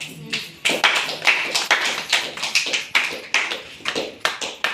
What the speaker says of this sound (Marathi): टाळ्या वाजून त्याच चालू करा